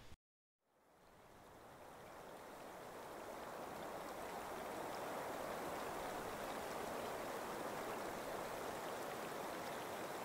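A mountain creek flows steadily through a high meadow at the Butte Creek headwaters in the Sierra Nevada, a broad, continuous rushing wash that fades in after a brief gap and then holds close and even throughout, with no voices.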